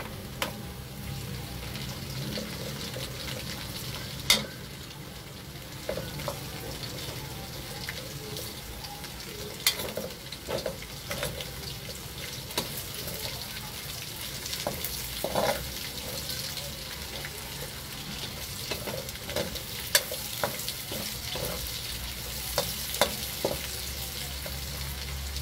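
Onions sauté in a pan for chicken pochero, a low steady sizzle with occasional scraping stirs and clinks, faint and continuous throughout.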